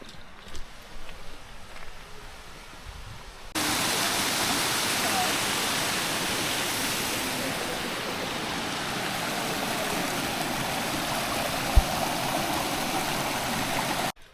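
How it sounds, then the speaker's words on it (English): Dense, rushing water noise of a forest stream starts abruptly and holds steady and loud, like a fast-flowing stream or small cascade, after a quieter stretch of background sound. "I can hear the water flow."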